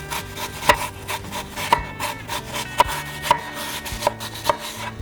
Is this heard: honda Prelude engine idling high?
no